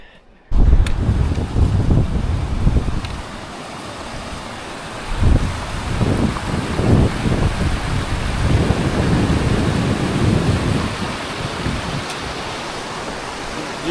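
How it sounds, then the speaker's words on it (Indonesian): Strong, cold wind gusts at Annapurna Base Camp in the Himalayas, a loud roaring rush buffeting the microphone right from the start, swelling and easing in waves throughout. "anginnya udah kacau nih, dingin banget"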